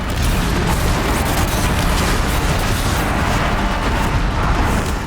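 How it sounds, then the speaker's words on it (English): Continuous loud rumbling blasts and roaring explosive noise from a fight in Horizon Zero Dawn fill the scene without pause, dense and close. "Oh my god, enough with the explosions."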